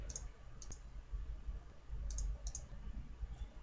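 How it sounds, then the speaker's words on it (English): Crisp clicks from a Razer Naga computer mouse, arriving in small clusters of two or three near the mic with pauses between, over a low steady background hum. "It's my Razer Naga mouse. Makes it sound like I'm clicking."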